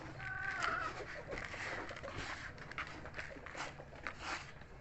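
Chickens clucking softly in a farm enclosure, brief low calls over a rustling, shuffling background, faint and somewhat distant.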